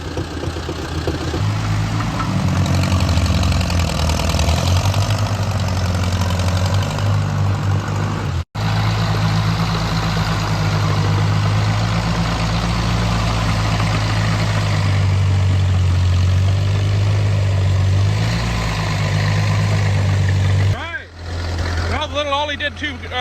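A truck engine idles and labors as it crawls off-road with a trailer hitched behind, a loud, steady low rumble close by that carries on almost continuously before a brief break near the end.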